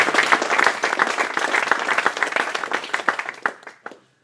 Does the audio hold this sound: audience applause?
yes